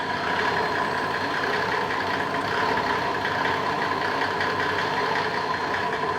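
A Mercedes OM606 diesel engine starts and idles steadily and evenly, a continuous rumbling drone with no voices and no obvious change in pitch throughout.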